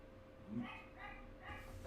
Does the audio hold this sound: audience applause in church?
no